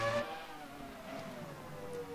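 Formula 1 V10 engine from a 1997 car in Assetto Corsa, revving high with a whining, rising-and-falling pitch that holds steady and fairly loud throughout, with no talk.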